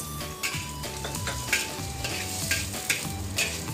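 Sliced carrots fry in a hot pan with a steady, soft sizzle and occasional stirring scrapes. Faint tonal background music plays throughout.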